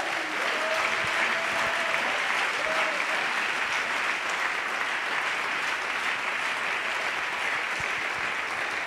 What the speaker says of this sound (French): Est-ce qu'on peut donner une acclamation?